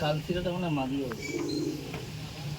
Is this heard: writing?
no